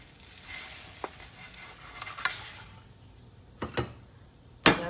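Egg in toast cooking in a frying pan just after being flipped: a soft, low sizzle broken by a few sharp scrapes and clicks from the utensil, with no one speaking.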